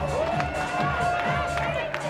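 Home fans roar in a sustained cheer after a home run at a Texas Tech vs Abilene Christian men's college baseball game, with a commentator talking over the crowd noise.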